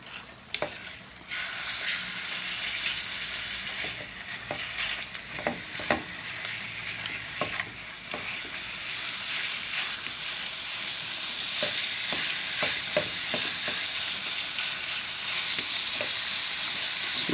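Sausage crackles and fries in a pan while a utensil breaks it up. Frequent sharp pops and scraping taps sit over a continuous sizzle that grows slightly stronger.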